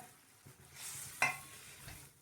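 Sautéed cluster beans go into a pot of boiling water, giving a faint bubbling hiss with one sharp clink of a utensil midway and soft stirring around it.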